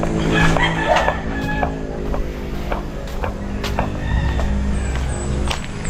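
A rooster crows and hens cluck loudly at a chicken coop on a rural Mindanao farm. Repeated calls ring out close by over a low background hum.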